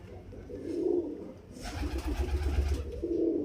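Highflyer Giribaz and Madrasi pigeons coo nearby in a few soft, low, throaty bursts, with a short rustle of movement in between.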